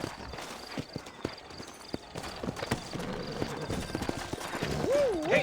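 Horse hooves clip-clop at a walking pace in Red Dead Redemption, set in New Orleans: a steady series of sharp, fairly close hoof taps with some rustle and a tonal swell near the end.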